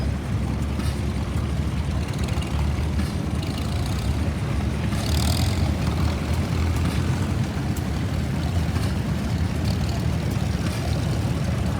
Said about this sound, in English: another Farmall M, and it's the 1943 from the Beaver family collection